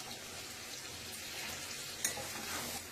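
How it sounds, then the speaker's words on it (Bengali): Frying masala for a Bengali egg curry sizzles steadily as a tomato goes into the hot spiced oil, a soft continuous crackle with a brief sharper splash partway through. "এবার দিয়ে দেবো একটা টমেটো"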